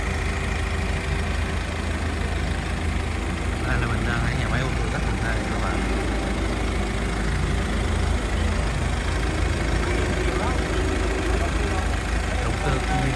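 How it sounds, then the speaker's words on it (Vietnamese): A JAC Sunray 16-seat van from 2022 with a Cummins engine idles at close range inside a car factory. The steady low rumble runs throughout beneath someone talking. "nghe tiếng nổ của chiếc xe trước khi bật máy lạnh và sau khi bật máy lạnh"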